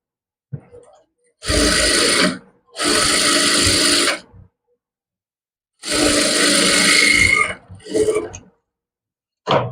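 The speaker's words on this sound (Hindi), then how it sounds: "इस तरीके से 2-3 बार हमें पक्की सिलाई लगा लेनी है।" An electric sewing machine running bursts of reinforcing stitches along a seam of a large-size suit, three long whirring runs with short pauses between them, close and loud, ending in a few brief clicks.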